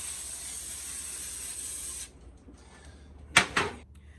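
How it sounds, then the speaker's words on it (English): A steady aerosol hiss of cooking spray coating pans for about two seconds, then quiet, followed by two short, sharper spray bursts close by. "So I'm going to coat them with a little cooking spray."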